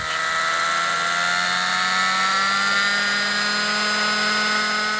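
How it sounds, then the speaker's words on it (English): A gasoline-powered, computer-controlled model helicopter runs steadily and loudly up close, its high buzzing whine with layered harmonic tones holding constant throughout. "The vehicle is a helicopter, run on gasoline, and controlled by computer."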